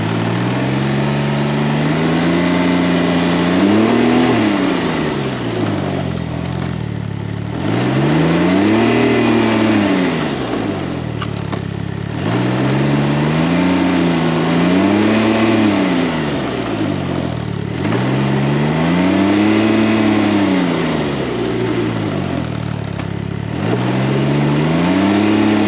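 A Can-Am Ryker's engine revs up and falls back in five repeated, evenly spaced sweeps during a test ride, loud and close, with a steady engine drone between each rise and no talking.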